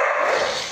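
Dog barking in a home during a live gaming stream, a short dense burst of loud, close barks filling the whole moment with no talk over it.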